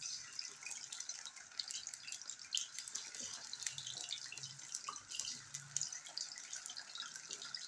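Butterfly chicken pieces frying in a pan over medium heat give a faint, continuous hiss dotted with small crackles and pops, steady throughout.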